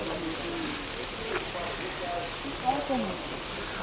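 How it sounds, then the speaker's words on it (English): Steady rain patters in a continuous hiss at a port in France, with a few faint bird coos drifting through in the background. "Made it to the port. Still raining."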